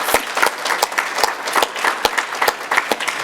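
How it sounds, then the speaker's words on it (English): A college audience claps in a short burst of applause for a North Idaho College representative at an accessibility awareness event, sharp claps carrying through the whole moment, fairly close and lively. "So can we give Jeremy a round of applause?"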